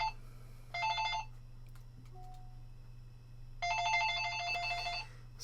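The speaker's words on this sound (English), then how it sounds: "sorry, my phone's going off there" An office or desk telephone rings in two bursts of a bright electronic trill, one near the start and a longer one near the end, over a steady low hum with a quiet gap between.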